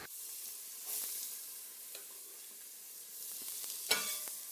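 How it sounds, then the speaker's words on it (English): Chopped onions, added after carrots and celery for beef bourguignon, sizzling in a pan: a faint, steady hiss with a few light scrapes and one sharper clatter near the end. "Next, add the chopped onions."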